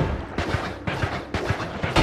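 Crates blowing up in the video game Noita, a rapid run of four or five sharp, booming blasts spaced about half a second apart, loud and close.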